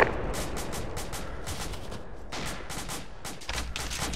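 Covering gunfire in a Shack Tactical Gothic Line mission, with rapid bursts of rifle and machine-gun shots repeating steadily at mid distance, forming a continuous crackling fusillade.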